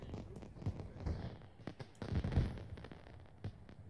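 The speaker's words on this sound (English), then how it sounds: "fireworks. That's awesome." Fireworks going off in The Sims 4 video game, a rapid series of faint distant pops and crackles with low rumbling bursts.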